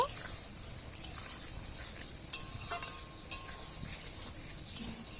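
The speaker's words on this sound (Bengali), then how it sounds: "ঝোলটা দেখুন ফুটে গেছে আমি ওপর থেকে মাছগুলো দিয়ে দিচ্ছি মাছগুলো দিয়ে ভালো করে আমি ফুটিয়ে নেব" Small mourala fish simmer in a boiling, spicy curry gravy in a pan, giving a steady bubbling sizzle with a few utensil clinks and stirring scrapes scattered through.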